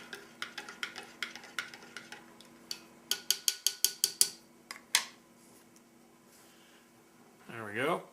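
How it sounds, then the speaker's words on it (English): A spoon stirs hot chocolate from a 2004 MRE Menu 10 in a cup, clinking against the sides in a quick run of about a dozen sharp taps that slow and stop, followed by a brief voice. "let's give the hot chocolate another stir and a taste test while we're at it"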